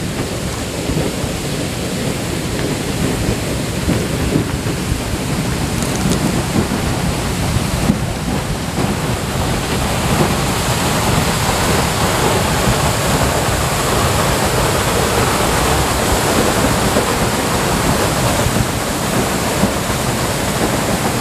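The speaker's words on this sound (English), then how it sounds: "Crazy just watching the water come up through there." Water surging and gushing up through rocks at an outback free-camping spot in the Pilbara, Australia, a loud continuous roaring wash close by with no pauses and no talk.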